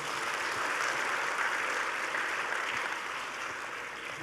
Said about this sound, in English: May I have a big round of applause for all of us?